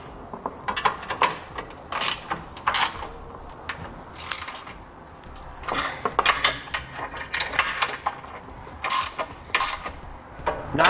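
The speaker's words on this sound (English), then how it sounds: "I'm going to use a 3/4 inch box wrench on this side and a 3/4 inch ratcheting wrench on this side." A 3/4 inch ratcheting wrench clicks in quick bursts while snugging down bolts on a Curt trailer hitch receiver on a 2011 Jeep Wrangler, its close, fairly quiet ratcheting separated by short pauses.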